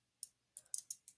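A handful of light, sharp clicks from typing on a keyboard with one hand, with long nails, faint and close, spaced irregularly with short gaps.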